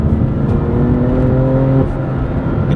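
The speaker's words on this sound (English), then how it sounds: "The exhaust note is definitely a lot deeper and it has some burbles" A BMW M2 CS engine rumbles with a deep exhaust note and burbles, steady and close, its pitch holding then dropping off near the end.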